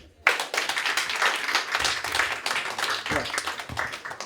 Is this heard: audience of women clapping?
yes